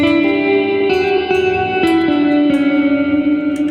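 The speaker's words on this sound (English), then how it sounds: "Bring the reverb back on." Electric guitar played through a Sonicake Levitate pedal with reverb and delay on, giving sustained notes with a shimmering wash and long echoing tails. Several notes change in slow succession and each blends into the next.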